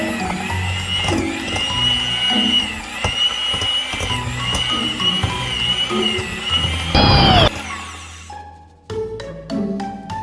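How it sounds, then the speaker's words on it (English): A handheld electric mixer whirs steadily while creaming butter and sugar in a home kitchen for cookies, its motor tone wavering with clattering beaters, then cutting out near the end, followed by a few light clinks. "With my hand mixer, I'm going to cream both the butter and the sugar together."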